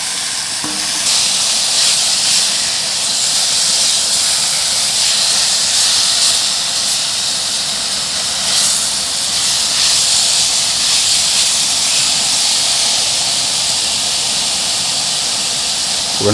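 Venison searing in hot oil in a deep skillet, a loud continuous hiss and sizzle held steady throughout with small crackling bursts, close up.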